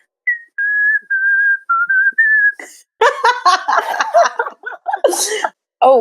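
Someone whistles a short tune in clear, steady notes, then breaks off into laughter and chatter from a few people close by.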